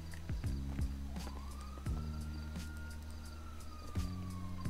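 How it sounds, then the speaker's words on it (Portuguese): Police siren in the video game GTA, a wailing tone that rises and falls in repeated sweeps over a low engine drone, with some clicking footstep-like sounds, heard fairly close. "Estou ouvindo a sirene, hein?"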